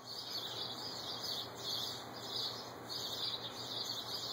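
Birds calling outdoors in a steady, repeating chorus of high chirps over a faint background hiss, with the calls rising and falling in regular pulses.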